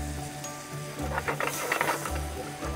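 A pancake pan flambéed with about three tablespoons of cherry schnapps sizzles and crackles in a burst of irregular hissing pops that swells in the middle over a low steady hum.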